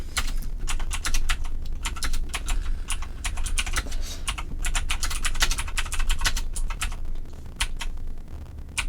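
Rapid, uneven clatter of fingers typing on a computer keyboard, close and fairly loud, with short pauses between bursts of keystrokes and no speech.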